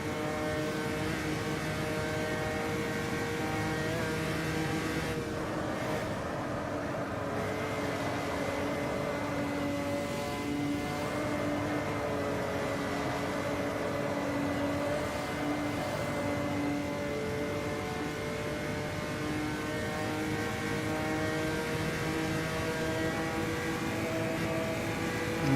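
A classic Opala 86 stock car engine in a racing game at Interlagos gives a steady, throaty, droning burble that holds at a constant pitch throughout, alone and without talk.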